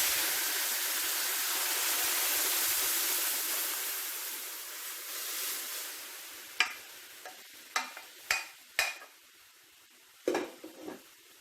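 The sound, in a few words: pouring and stirring sambar in a pan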